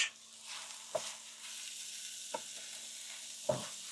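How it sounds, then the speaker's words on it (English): Vegetables sizzle faintly in a frying pan at meal prep, while three distinct clacks of a utensil against the pan mark the stirring at roughly one-second intervals. "Let me stir the veg."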